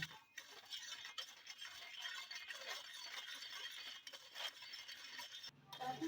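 Sugar is stirred into a mixture for sweet bread French toast, making faint repetitive scraping and light clinks of a utensil against a bowl. The stirring is quiet and steady, with no talk.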